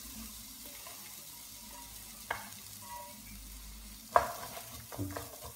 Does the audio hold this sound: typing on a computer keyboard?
no